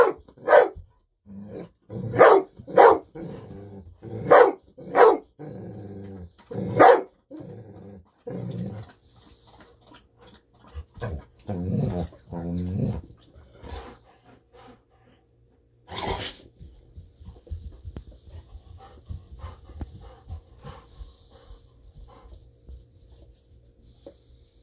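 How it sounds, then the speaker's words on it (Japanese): A golden retriever lets out a series of loud, sharp barks in quick succession, followed by lower rumbling growls and a few more scattered barks, close and alone with quiet gaps between bursts. "吠えたらあかん。"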